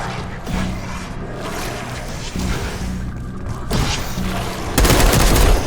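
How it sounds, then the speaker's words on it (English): Gunfire rattles through a combat scene in the video game Call of Duty Black Ops 6, a loud, sustained barrage of shots and heavy thuds with no break, growing harsher toward the end. "You hearing gunfire?"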